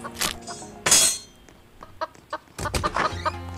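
Chickens in a scary Roblox obby cluck in a game, with a few sharp bursts and choppy clucks spread over a few seconds, loud and close, no talk over it.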